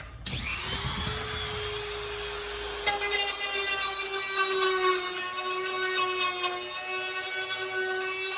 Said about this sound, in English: I'm gonna use the Dremel and widen it that way